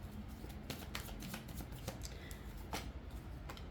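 Tarot cards are gathered and shuffled by hand, giving a close, quiet flurry of papery riffles and soft slaps with a few sharper snaps.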